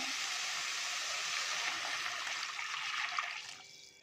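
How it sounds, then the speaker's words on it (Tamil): A steady rush of about a liter of water pouring continuously into a pot for several seconds, close by, tapering off near the end. "இப்போ நம்ம ஒரு லிட்டர் அளவுக்கு தண்ணி ஆட் பண்ண போகிறோம்."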